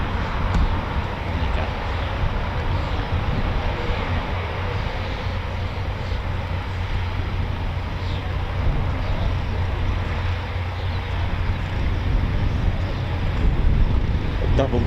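Two Chipmunk trainer aircraft of the Battle of Britain Memorial Flight give a steady, low propeller-engine drone throughout, moderately distant, with a rumbling low end and wind noise; nobody speaks.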